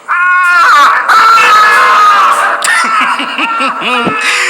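A loud, shrill scream from a scene in a Godzilla series rings out, wavering and sustained, followed by broken, choppy yelps and cries near the end.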